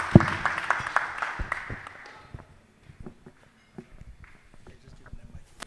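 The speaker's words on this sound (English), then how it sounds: "Clap your hands for her." Audience applause at a tax seminar: a dense wash of clapping that fades out over about two seconds, followed by scattered people talking.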